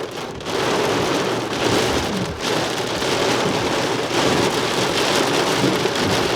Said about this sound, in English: Yeah, sounds like hail. Or big heavy drops at least.